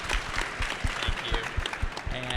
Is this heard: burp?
no